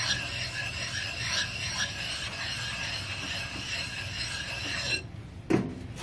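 A knife-sharpening whetstone is flattened by rubbing it against another stone under its own weight, producing a continuous gritty, slightly squealing scrape in steady strokes that stops with a brief knock near the end.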